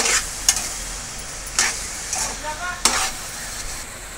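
Gajar ka halwa being stirred with ghee in a pan, a low continuous sizzle broken by a few distinct spoon scrapes and knocks against the pan, close up with no talking.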